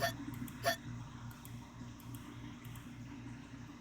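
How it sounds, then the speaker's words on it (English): A cartoon cat hiccuping in a video game, two short squeaky hiccups near the start, then soft bubbly game sounds over a low looping background tune. "You watch baffled as the cat continues to hiccup, causing little bubbles to float out of its mouth."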